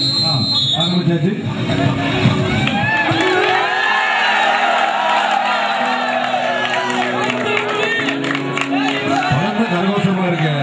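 A crowd cheers and shouts at a college Pongal festival game, with loud, dense whoops and roaring voices throughout alongside commentary.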